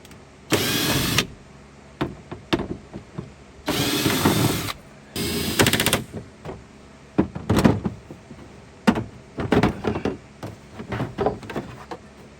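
A Polaris Ranger panel is being removed with a T27 bit. A power driver whirs up close in three longer bursts, followed by a string of short, sharp clicks and ratcheting sounds.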